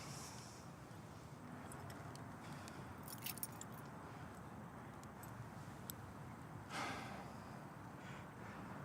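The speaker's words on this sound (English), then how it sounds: "Keys." A bunch of keys jangles faintly in a tense scene, with a brief cluster of light metallic clinks and one later rattle over a steady low background hum.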